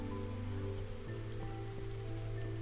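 Rain falling in the video game Against the Storm, a soft steady patter layered over low droning game music and ambient tones, quiet and continuous.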